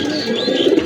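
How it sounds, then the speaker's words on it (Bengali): A male Kalpura Kaldom pigeon, white with a black tail, gives a short, close, soft coo, alone and brief. "এটা নর কবুতর।"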